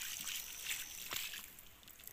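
Water poured over asparagus seedlings in a polybag, a faint soft trickle and splash with a few light spatters, close and quiet.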